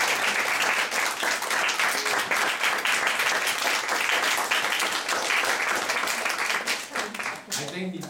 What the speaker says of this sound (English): How about the big round of applause?